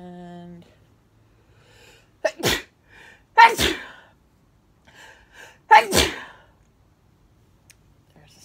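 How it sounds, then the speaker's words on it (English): Two sharp, explosive sneezes a few seconds apart, loud and close, with a short gasping intake before each and near silence around them. "a sneeze. It's allergy season."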